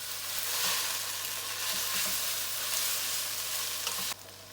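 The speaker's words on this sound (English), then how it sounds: "Stir the noodles around for 3 to 4 minutes until they become shiny" Udon noodles stir-frying in hot oil in a pan, a steady bright sizzle with a few soft knocks of stirring, close and alone.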